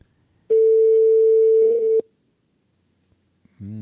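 A telephone ringback tone sounds during a call: one steady, loud tone burst of about a second and a half, then silence, before a voice begins at the end.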